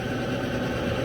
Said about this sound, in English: You can see the auger running.